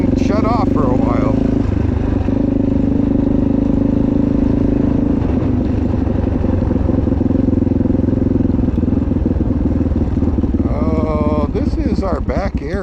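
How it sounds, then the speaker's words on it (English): A motorcycle engine runs steadily and loudly close by during a ride near Sunriver, a continuous throbbing drone that holds its pitch, with a voice talking over it near the end. "Bike seems to be running good"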